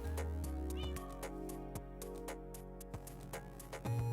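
A cat in the Minecraft video game meows a few times over looping game music and ambient tones.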